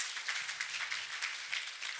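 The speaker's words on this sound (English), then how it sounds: "Please, a big round of applause for our colleague from Tunisia." Audience applause at a graduation ceremony for a global health leadership fellowship, a steady, fairly faint wash of many hands clapping at once.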